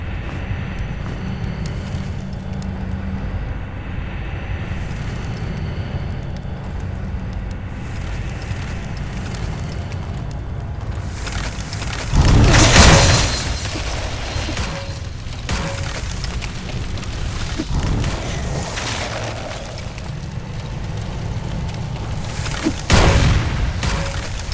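Fire bombs burst in a castle trap door level of the game LOGII, giving loud booming blasts at a couple of points over a continuous rumbling, crackling game backdrop.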